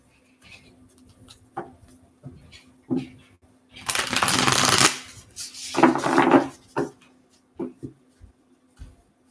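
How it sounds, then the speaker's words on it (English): Tarot cards are shuffled by hand, a dense riffling burst of a second or so followed by shorter flicks and taps of the deck, close and fairly loud in a quiet room. "Okay, one more shuffle."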